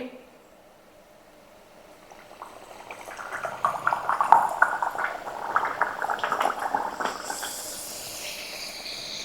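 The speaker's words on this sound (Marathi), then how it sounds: "तेल पण तापलंय आणि तेला तशी पुरी सोडायची" A puri is dropped into hot oil in a kadhai for aamras puri, and a bubbling, hissing fry swells up after a quiet start and stays loud and close, with a voice talking over it.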